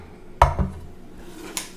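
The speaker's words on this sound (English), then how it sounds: "I have just a standard 12 muffin pan." A standard metal 12-cup muffin pan is handled, giving two close clanking knocks followed by a fainter metallic tap, with no talk.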